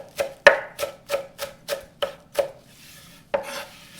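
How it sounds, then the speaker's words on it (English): Fresh cilantro being coarsely chopped with a knife on a cutting board for white chicken chili: about eight crisp, evenly spaced strikes, close and clear, ending with a short pause before a final chop, with no talking. "I'm going to give this a nice coarse chop."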